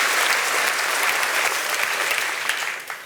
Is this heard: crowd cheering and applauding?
yes